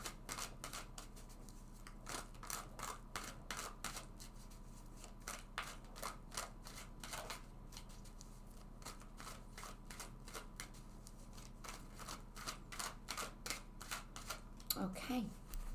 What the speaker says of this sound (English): So let's shuffle this deck several times.